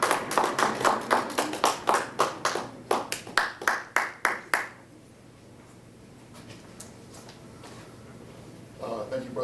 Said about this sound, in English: Let's accept him with a warm round of applause.